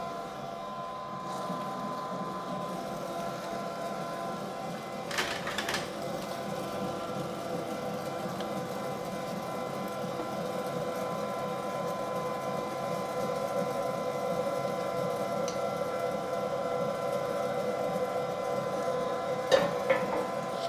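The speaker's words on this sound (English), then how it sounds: "I've set up now the grinder with the 3 ml blade, and the first thing what I will do is I will grind the veal through this blade." An electric meat grinder fitted with a 3 mm plate grinds veal for white bratwurst, a steady motor drone running throughout at moderate level with a few brief clicks, and no voices.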